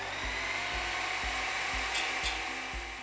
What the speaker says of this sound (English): the most important tool you'll need to put in a radon sump is a core drill with a 112 millimeter diameter drill bit